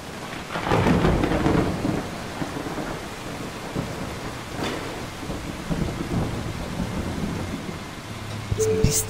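Thunderstorm with steady rain in the driving game Bus Simulator 21: a loud rolling thunder crash early, then continuous rain hiss with further low rumbles and a brief sharper sound near the end.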